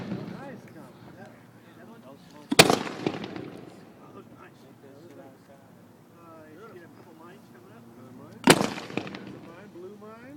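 Two sharp, loud fireworks reports, comet shots fired at a fireworks inspection class, several seconds apart, each followed by a crackling tail, with people talking throughout.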